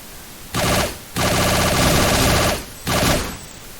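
Rapid rifle fire from a video game, three loud bursts of automatic shots separated by short gaps, the middle burst longest, with no talking.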